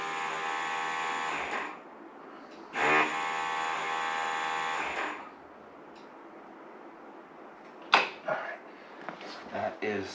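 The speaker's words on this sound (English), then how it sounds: "that's the anti-lock brake module activating" A motorcycle's anti-lock brake module activates during an ABS brake service, giving two loud electric buzzing bursts of a couple of seconds each, followed by clicks and light handling noises nearby.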